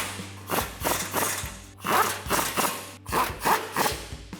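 Socket ratchet tightening 12mm bolts during a front CV axle shaft install on a 2003–2022 Toyota 4Runner, with rhythmic rasping ratchet strokes in repeated bursts, close and moderately loud.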